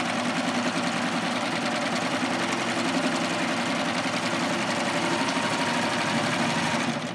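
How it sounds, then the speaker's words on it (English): A serger runs along the edge of a strap to finish it decoratively, with a steady, fast mechanical whir and rapid ticking, loud and close for the whole stretch and stopping right at the end. "I'm just running along the edge so I get a nice decorative edge"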